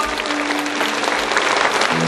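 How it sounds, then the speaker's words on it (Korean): A church congregation gives a round of blessing applause after a prayer. Dense, even clapping fills the room at close range, with a faint tone held beneath it. "한번 축복의 박수 다시 한번 해줍니다."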